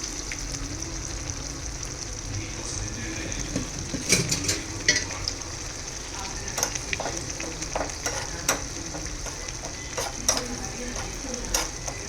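Ingredients for palak paneer fry in a pan with a steady sizzle, and a utensil stirring them brings occasional scrapes and knocks close by. Nobody speaks.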